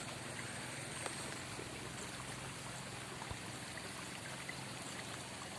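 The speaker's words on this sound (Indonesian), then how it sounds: "Ini cuma sekarang udah tinggal kecil sungainya tuh." A small river flows beneath an old 1891 sugarcane railway bridge at Dawuhan, Purbalingga, a faint, steady trickling and rushing of water heard from above, continuous and without talk.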